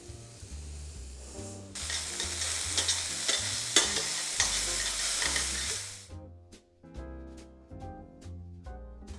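Bacon fries in a pan for pasta carbonara, a loud, dense crackling sizzle up close that drops away abruptly, leaving quieter popping and spitting.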